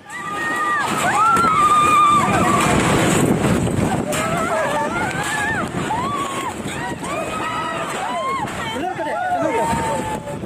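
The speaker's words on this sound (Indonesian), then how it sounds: "angin kencang merobohkan puluhan tenda UMKM dan panggung musik di anjungan pantai Manakara" Strong wind battering the waterfront pavilion at Manakara beach in Mamuju, West Sulawesi, a loud roaring buffet across the microphone with someone talking continuously over it.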